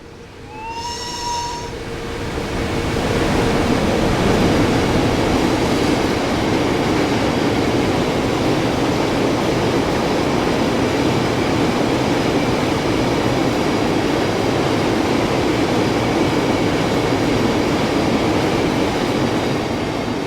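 A BR628/2 diesel multiple unit runs in Train Sim World 6, starting with a brief rising whistle-like tone, then a steady, loud rumble of wheels and engine that carries on unbroken to the end.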